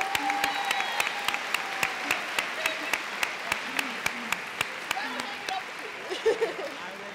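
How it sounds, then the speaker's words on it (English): Audience applause at a high school senior convocation, steady dense clapping from a large crowd filling the hall, with a few sharper nearby claps and a voice briefly heard beneath it. "give them one more round of applause"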